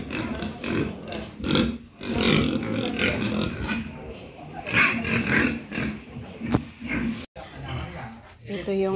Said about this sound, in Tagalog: Ito yung mga nanay ng baboy. Sila yung mga nanganganak na baboy.